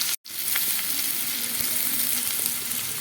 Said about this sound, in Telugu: తాలింపు సరుకులు శనగపప్పు కానీ ఆవాలు కానీ జల్దీ త్వరగా ఫ్రై అయిపోతాయి అన్నమాట